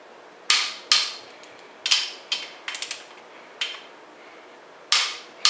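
Sharp clicks come from a torque wrench as bolts on a Chrysler 440 Mopar engine are torqued: about ten crisp, close metallic snaps at irregular intervals, with a few arriving in quick succession, all against a quiet background.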